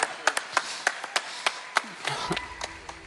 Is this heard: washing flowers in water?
no